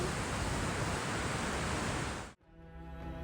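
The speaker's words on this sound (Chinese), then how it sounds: "只有不间断的轰隆隆水声" A loud, unbroken roar of rushing water from Goðafoss waterfall in north Iceland fills the air, then cuts off abruptly to a much quieter, hum-filled background.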